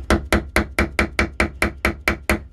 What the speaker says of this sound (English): Never letting go of the tube, never letting go of the mallet, never letting go of the rammer